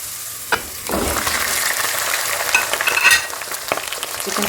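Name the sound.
chicken with garlic and ginger paste frying in a pan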